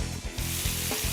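Breaded, panko-coated meat stuffed with cremini mushrooms and pancetta crackles loudly in hot bacon fat, a close, continuous sizzle with brief dips as the piece is set into the pan.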